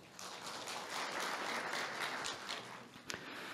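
A seated audience at a Korean occupational safety forum breaks into sustained, even applause that fills the room for several seconds, steady and moderately distant with a slight taper near the end.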